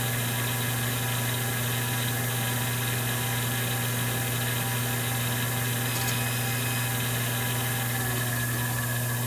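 A Kershaw Inkometer runs an ink tack test, giving off a steady, continuous mechanical hum with a droning low tone and constant broadband whir throughout, with no talk.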